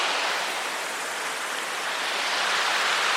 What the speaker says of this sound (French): c'est le cours d'eau qui doit alimenter la cascade